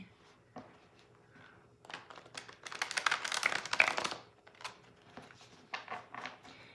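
Cards being riffled and shuffled in bursts of rapid crisp flutters and taps, close by, with quiet gaps between, no talking.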